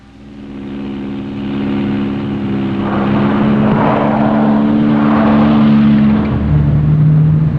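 An electric prototype mule car, built with new geometry and stiffer springs, drives on a test track during handling checks, giving a steady motor and tire drone that swells slightly midway and holds at moderate loudness without talk.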